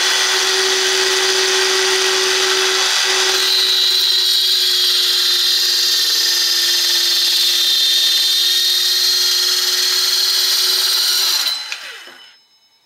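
An older Makita 3-3/8 inch circular saw cuts through a 1x board with a loud, steady high whine that holds for about eleven seconds, then spins down and fades out.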